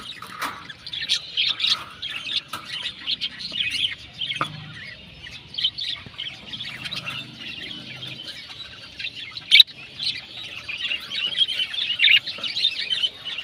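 Household pet birds, breeding pairs with eggs and young, chirp and squawk continuously in a busy flock chorus, close and moderately loud, with occasional sharper calls standing out and no talking.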